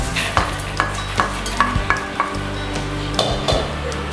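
Steady sizzling of spices roasting in a hot pan for beef curry, with repeated light scraping and stirring strokes, a utensil knocking against metal every half second or so.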